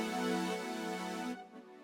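Brighter, less muffled piano chords from a MIDI track ring out with a rich harmonic sheen, sustained for over a second before the upper tones cut away and the chord fades.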